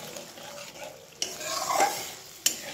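A spoon stirs spice masala thinned with a little water in a pan for aubergine curry, soft scraping strokes over a low simmering sizzle with two sharp knocks of utensil on metal.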